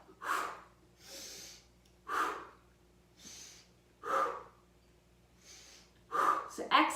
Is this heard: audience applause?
no